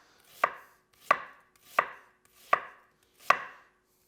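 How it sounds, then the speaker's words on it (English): A chef's knife cuts straight down through food on a board, making five crisp, close chops at an even rhythm with near silence between them. "if I try and cut straight down, it like tries and pushes it off to the side"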